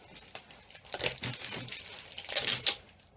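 A package is opened by hand, its wrapping crinkling and tearing in close, irregular rustles that grow louder toward the end, with no one speaking.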